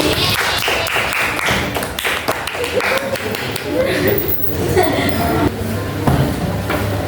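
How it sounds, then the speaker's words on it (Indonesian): Applause from a classroom audience for the first student group after its presentation on Islamic jurisprudence: dense, continuous clapping mixed with chatter and some laughter throughout. "Tepuk tangan untuk kelompok 1."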